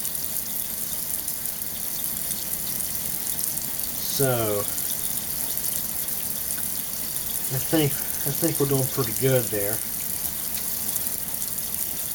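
Tap water runs steadily under a faucet while an HP OfficeJet Pro 8600 print head is cleaned, with a person talking briefly over the flow.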